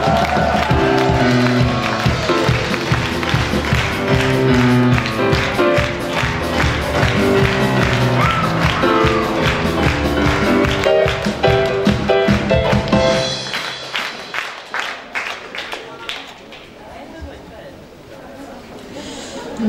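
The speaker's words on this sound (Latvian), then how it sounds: "Aplausu!" A crowd applauds steadily with dense clapping for about thirteen seconds at a singing contest award in Aizkraukle, Latvia, then the applause fades into quieter room noise and scattered claps.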